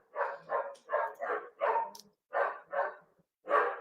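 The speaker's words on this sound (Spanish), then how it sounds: "Mi amado perro." A dog barks eight times in a steady, evenly spaced series of mid-pitched woofs, clear and fairly close, with no other sound between barks.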